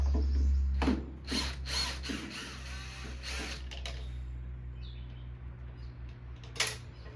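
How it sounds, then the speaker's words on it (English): Ratchet wrench loosening 8mm bolts on a free lawn mower, several close bursts of quick clicking strokes near the start, then quieter handling and a last sharp click, with no talking. "What we want to do first is pull off these couple 8mm bolts here."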